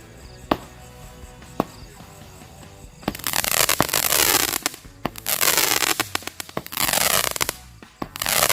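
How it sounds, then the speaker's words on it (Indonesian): A few sharp, isolated bangs from a Weko seven-colour firecracker on Takbiran night give way to loud crackling bursts that hiss and sizzle in waves, close and intense, with no speech. "yang selanjutnya kita nyalakan mercon Weko 7 warna"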